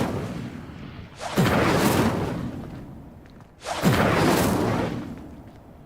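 Two casts of the Incendio fire spell in Hogwarts Legacy, each a loud, close whooshing burst of flame that swells and roars for about a second before fading, separated by a short pause.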